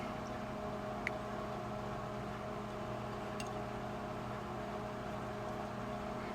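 A microwave oven running in a home kitchen gives a steady, even mechanical hum with tonal buzzing, continuous throughout at moderate level, with a couple of faint ticks and no talking.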